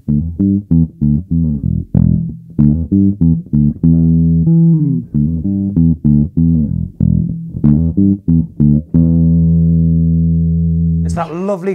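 Epiphone Jack Casady semi-hollow double-cutaway bass guitar played alone, a run of thick, robust low notes plucked in a steady rhythm, with a long sustained final note ringing out before a brief bright scrape at the end.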